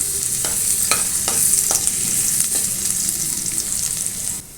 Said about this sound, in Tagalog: Mainit na yung mantika, lagayan natin yung bawang.